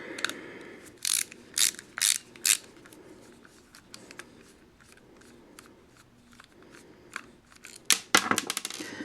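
A small screw being worked out of a Transformers Prime Beast Hunters Optimus Prime toy, a few sharp ratcheting clicks in quick bursts, then quieter fiddling and another cluster of close clicks near the end.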